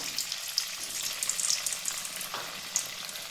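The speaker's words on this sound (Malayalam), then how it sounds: "എണ്ണ നന്നായി ചൂടായതിന് ശേഷം നമുക്ക് നമ്മുടെ പത്തൽ എണ്ണയിലേക്ക് ഇട്ട് കൊടുക്കാം" Pathal, a rice flatbread snack, frying in hot oil with a steady close sizzle and bubbling crackle throughout, alone without any talk.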